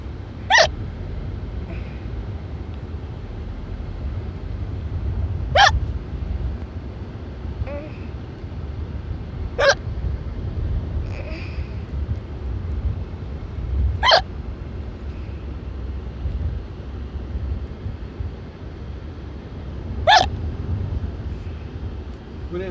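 Repeated hiccups after a buffet, about six sharp isolated hics spaced several seconds apart, fairly close, over a steady low rumble of a moving vehicle and faint background talk.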